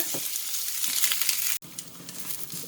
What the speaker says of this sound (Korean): 이제 호박도 볶고 당근도 소금간 조금 해서 볶아 놓고 표고를 볶는데요